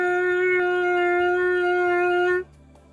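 Trumpet mouthpiece buzzed alone on a concert F, one steady sustained pitch held for over two seconds and then cut off sharply, close and clear with no talking.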